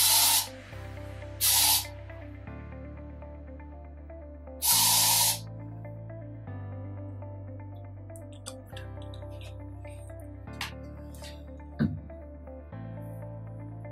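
Lysol disinfectant sprayed from an aerosol can beside an air-quality monitor: three sharp hissing bursts, two brief and one longer, close and loud, with a steady low machine hum underneath and no talk.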